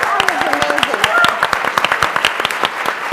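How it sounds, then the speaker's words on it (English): An audience at a talk on LGBTQ+ leadership claps for a speaker, with crisp rapid claps filling the clip while a voice talks over the start of the applause. "can we get another round of applause for Ari?"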